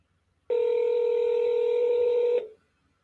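An outgoing phone call rings once, a single steady electronic ring tone lasting about two seconds, loud and clear against near silence, then cutting off.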